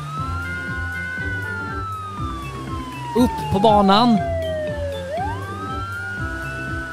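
A cartoon toy police car's siren wails in long sliding tones, loud and continuous, over upbeat background music, with a voice speaking Swedish briefly partway through.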